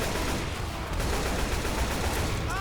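Dense, continuous gunfire from the co-op zombie shooter Left 4 Dead, loud and constant throughout with no breaks between shots.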